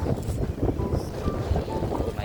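Boat ride on an island-hopping tour off Boracay, heard from the top deck: strong wind buffets the microphone in a steady low roar over engine and water noise, continuous and loud throughout.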